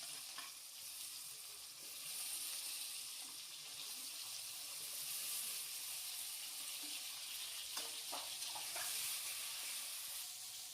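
Mixed vegetables for Bengali shukto fry together in oil, giving a continuous dense sizzle with occasional stirring scrapes and crackles, close and fairly loud.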